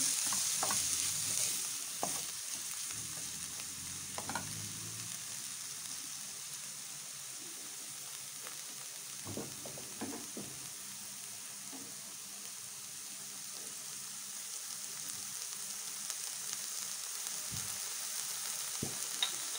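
Onions frying in a pan with a steady soft sizzle, broken by occasional scraping stirs and clinks of a spoon, fairly quiet and close, with no talking.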